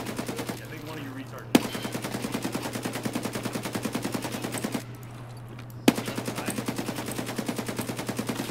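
Automatic gunfire in a video game, fast even bursts of shots at steady volume, broken by two brief pauses that each end with a sharper single crack.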